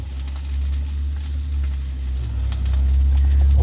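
Seasoned rib eye steak, flipped and cooking in a pan, sizzling steadily with crackling spits over a low rumble, close and growing slightly louder, with no talk.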